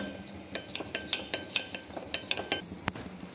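Cornflour being stirred into water with a spoon in a bowl while cooking, a run of light, sharp clinks and scrapes in an uneven rhythm, close and fairly quiet with no talking.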